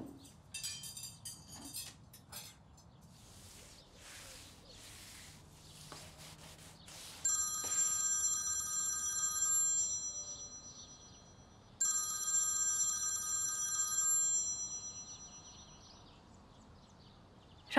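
A telephone left at home rings in two long electronic bursts with a pause between, quiet and somewhat distant against faint room sound and scattered small noises, no voices.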